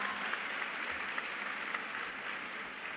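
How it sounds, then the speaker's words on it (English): Audience at an International Women's Day conference applauding a speaker, an even, moderately distant roll of many hands clapping with a few sharper nearby claps. "Let's give her a round of applause."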